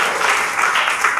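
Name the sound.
audience applauding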